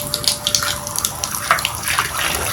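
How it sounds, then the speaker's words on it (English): Tap water runs into an indoor bathtub near a drain, a steady splashing flow with brighter droplet spatters, close and alone. "when I turn the water on"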